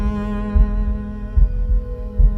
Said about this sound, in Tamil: அவன் ஹார்ட் பீட் மட்டும்தான் கேட்கும்.